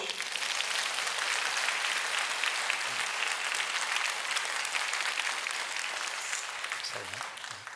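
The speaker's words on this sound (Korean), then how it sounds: "여러분 크게 박수!" Sustained applause from a large church congregation fills the sanctuary during a Sunday service, steady and loud throughout, with a faint voice surfacing near the end.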